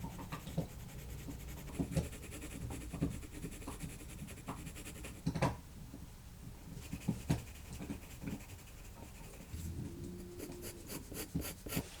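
Coloured pencil scratches and rubs across paper in a steady run of soft strokes, close and quiet, with small taps and a few brief louder scrapes.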